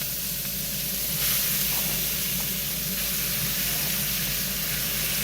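Chicken browning in a pan gives off a steady, close sizzle and hiss that holds evenly throughout with no talking.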